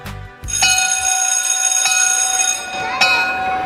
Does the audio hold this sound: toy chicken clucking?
no